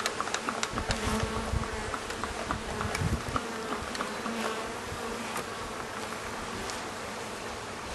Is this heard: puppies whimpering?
no